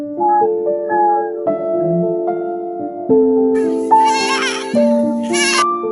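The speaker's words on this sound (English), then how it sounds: "This swan is so happy to see its rescuer that it just won't stop talking." A swan calls excitedly in a run of honking, bleat-like notes, loud and close, repeating with short breaks and rising into a higher squealing stretch near the end.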